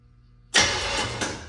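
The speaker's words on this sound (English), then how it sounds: "I need to test my starter" A push-button starter on a budget twin-turbo hot rod Corvette build kicks in abruptly after silence and cranks loudly and steadily with a broad, raspy whir, briefly surging once near the end.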